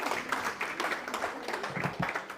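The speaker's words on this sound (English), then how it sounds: "Let's clap for her again, especially for keeping time." An audience at a women-in-health workshop claps together, a dense, steady patter of many hands lasting a couple of seconds at moderate volume, with no clear voices over it.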